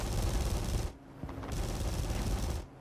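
Rapid bursts of aircraft gunfire in the War Thunder video game, loud dense firing in two long bursts separated by a short pause near the start and one near the end.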